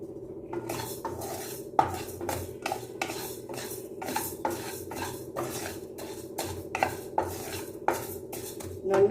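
Vegetables are roasted and stirred in a pan, a metal spoon scraping and clanking against it in a steady, close rhythm of repeated knocks, with no voices.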